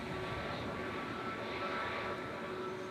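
Steady, distant aircraft engine drone of a plane taxiing at Manchester Airport, a continuous broadband rumble with no breaks throughout.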